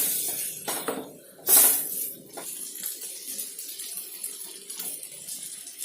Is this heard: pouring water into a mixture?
yes